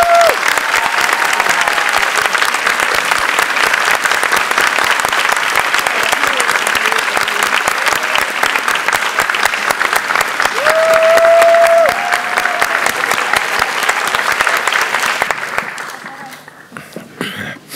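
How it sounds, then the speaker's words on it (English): A large audience applauds at an awards ceremony, thick continuous clapping that holds steady for about fifteen seconds before tapering off, with a voice briefly heard over it. "please give Rigoberta another round of applause,"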